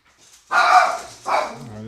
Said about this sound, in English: don't be barking in his room when I'm trading